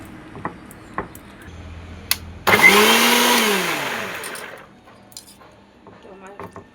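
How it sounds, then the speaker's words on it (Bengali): A mixer grinder blends raw mango with mint leaves and salt in one loud whirring burst of about two seconds that winds down, with soft voices and small kitchen knocks around it. "তো চলো আমি মিক্সার করে নিই।"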